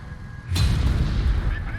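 A HEAT round striking a tank in War Thunder: one sudden loud boom that drops into a heavy rumbling decay for over a second, alone with no talk.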